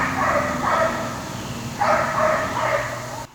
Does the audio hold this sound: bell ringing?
no